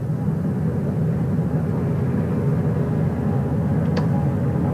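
A steady low rumble of a helicopter approaching the flight deck of the USS John P. Murtha on the Pacific, droning continuously at a constant loudness with no talk over it.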